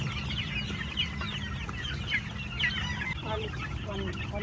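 Month-old chicks clucking and peeping, soft chirpy calls scattered over a steady low background hum, with several birds calling close by.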